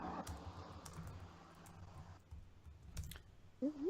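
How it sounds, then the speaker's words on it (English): Someone types hard and fast on a computer keyboard close to a sensitive microphone, producing a steady run of loud clicks and clacks over low background noise. "Typing hard as hell."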